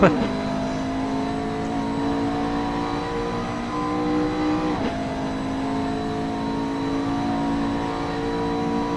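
A Porsche race car engine howls steadily in a simulated GT race at Monza, a sustained high-revving tone with a brief dip and shift near the middle, loud and continuous alongside the car's whine.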